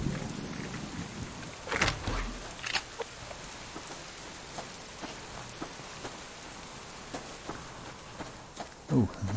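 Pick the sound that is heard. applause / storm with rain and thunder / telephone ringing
storm with rain and thunder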